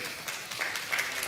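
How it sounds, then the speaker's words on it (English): Applause from a church crowd after an auction sale, a short burst of scattered clapping that stays fairly faint and soft throughout. "Let's give them a big round of applause"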